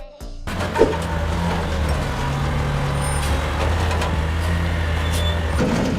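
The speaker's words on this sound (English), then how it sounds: "This is a front loader garbage truck equipped with large hydraulic pulleys that lift commercial dumpsters" A front loader garbage truck idles with a steady low diesel rumble, a brief hiss near the start, and faint clanks over continuous engine drone.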